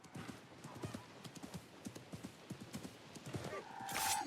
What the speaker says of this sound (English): riding on a horse through wilderness region has a few minor drops